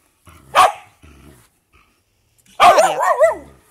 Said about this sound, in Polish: O, no dobry pies, z drugą stronę ciągnij